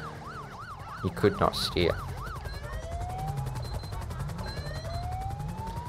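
Police siren in GTA V, wailing in rising and falling sweeps, then switching to long steady rising tones, loud and continuous over engine noise, with a few sharp bangs and brief talk partway through.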